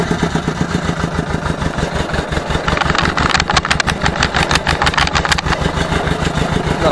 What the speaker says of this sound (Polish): Teraz zobaczcie, silnik już zabrał temperatury